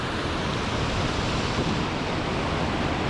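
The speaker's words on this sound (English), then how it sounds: "there's just waterfalls upon waterfalls upon waterfalls the whole way down here" Cascading waterfalls in a Scottish gorge roar as a loud, steady, close wash of falling water with no voices.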